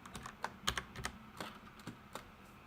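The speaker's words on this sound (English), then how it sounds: "the number that we typed on the keyboard there" Keys clack on a computer keyboard in a series of separate, crisp taps with short pauses between them, close and clear with no talking.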